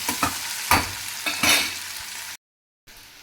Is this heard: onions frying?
yes